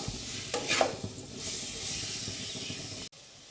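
A spoon stirs a sweet-sour rohu fish curry with potatoes in a pan, giving a hissing simmer with a few scrapes near the start, then a sudden drop to quiet at the end.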